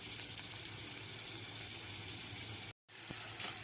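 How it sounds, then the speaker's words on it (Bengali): Jackfruit seeds fry in a hot pan with a steady, dense oil sizzle that holds at an even level, broken by one brief dropout near the end. "এবারে কাঁঠাল দানাগুলো বেশ লাল লাল করে ভেজে নেব।"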